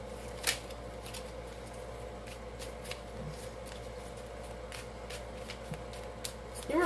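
Tarot cards being shuffled by hand, a quiet continuous riffle and slide of card stock with small sharp snaps scattered throughout, close and alone.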